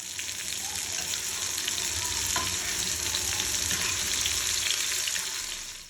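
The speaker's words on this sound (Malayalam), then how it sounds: "ഓയിൽ ചൂടായാൽ നമ്മൾ ആ ഒരു ചിക്കൻ മിക്സ് ചെയ്തത് ഇട്ട് കൊടുത്തിട്ട് നല്ലോണം ഒന്നങ്ങ് പൊരിച്ചെടുക്കാം" Chicken breast pieces fry in hot oil in a frying pan over a high flame, producing a loud, dense, continuous sizzle that stays even from start to finish, close up and without talk.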